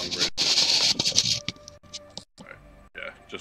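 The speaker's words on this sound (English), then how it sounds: "I needed to move my microphone." A microphone is shifted and handled during a gaming stream, giving bursts of rustling, scraping and thumping handling noise with brief silent gaps and scattered bumps.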